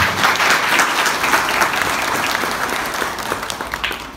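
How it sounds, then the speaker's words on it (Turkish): Hearty applause fills a hall at an AK Party district advisory council meeting, a crowd clapping loudly and continuously before gradually thinning out toward the end. "kendinizi bir alkışlamanızı istiyorum"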